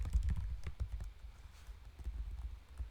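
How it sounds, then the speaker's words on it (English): Typing on a cheap, poor-quality external keyboard, a quick irregular run of dull key clacks, close and moderately loud, with brief pauses between bursts and no talk. "I'm typing on this very bad quality keyboard because my laptop keyboard is really breaking down."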